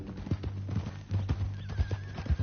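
Red Dead Redemption 2 game horse sounds: close, rhythmic clip-clop of hooves at a walk with a short whinny mixed in, heard without talk over it.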